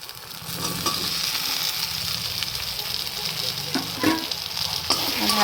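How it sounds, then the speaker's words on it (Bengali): Potatoes tipped into hot oil and spiced masala in a pan, setting off a steady, close sizzle and hiss with clattering scrapes of a stirring spoon; a voice talks briefly over the frying. "এবার তেল ছাড়লে এর ভিতরে আমি আলুগুলাকে ঢেলে দেব।"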